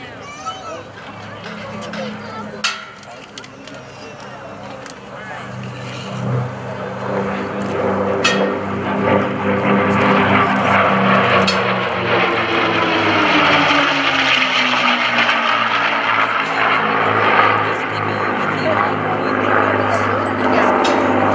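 A warbird powered by a Packard-built Merlin engine making a photo pass at an air show, its droning roar building and sweeping past while an announcer talks over it.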